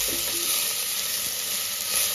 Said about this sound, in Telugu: ఇది బాగా టమాటా గుజ్జులాగా అయ్యేంత వరకు వేపుకోవాలి.